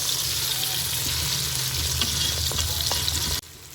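Chopped tomatoes sizzle steadily in hot oil in a pan for chicken korma, with faint scraping of a spoon stirring them throughout. The sizzling ends abruptly near the finish.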